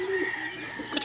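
Bantam chickens cluck and call in short bursts nearby, with a steady hum of other birds and farmyard noise behind them.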